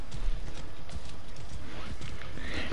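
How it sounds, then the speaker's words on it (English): Horse hooves clip-clop in the video game Assassin's Creed Origins, a quick, close rhythm of soft thuds under a low ambient game backdrop, with a brief whinny-like note. "This horse is part of the DLC pack that Ben got"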